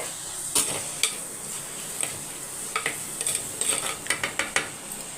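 Mutton and onions frying in a pan are stirred with a utensil, giving repeated scraping clinks against the pan over a steady sizzle, with a busier run of strokes near the end.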